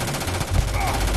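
Rifle fire in the video game Starfield, a dense burst of rapid shots with a sustained rattling texture over about a second, fairly loud and close, with game background underneath.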